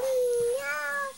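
A young child mimics a kitten with a single long, nasal meow that slides upward near the end, close to the microphone and alone against a quiet background.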